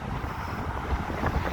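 Strong wind buffeting the microphone on Blackpool promenade during Storm Debi, a steady broadband roar with low gusty rumbles swelling and easing throughout, close and loud with no voices.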